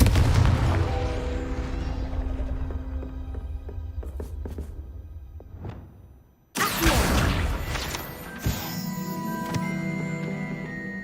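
Confringo blasting spell in Hogwarts Legacy: a loud booming burst that decays over several seconds, then a second sharp blast around midway with crackling debris and rumbling aftermath.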